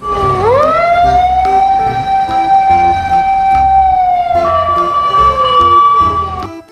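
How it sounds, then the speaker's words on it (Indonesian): A toy fire truck's electronic siren wails loud and close, holding a steady tone that then steps to a second pitch before cutting off. "Wih, mobil pemadam kebakaran teman-teman."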